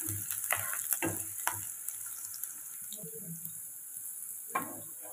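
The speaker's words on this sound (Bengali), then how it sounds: "পেঁয়াজটাকে ভালো করে ভেজে নেব।" Onions fry in mustard oil with a dried red chilli in a pan, making a soft continuous sizzle broken by a few light scrapes and clicks.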